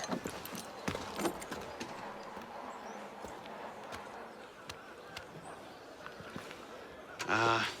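Horse hooves clip-clop on a street in Assassin's Creed Unity, a sparse irregular clatter at moderate distance over quiet ambience, ending with a brief louder burst.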